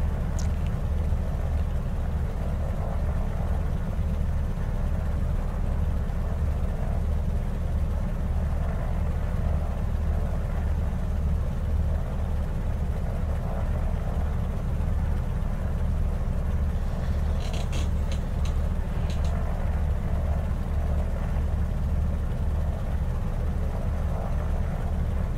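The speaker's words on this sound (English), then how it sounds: "Engines are idling nicely." D18S aircraft engines idle in Microsoft Flight Simulator 2020 as a steady, continuous low drone that holds level throughout, with a few brief faint clicks near the end and no speech.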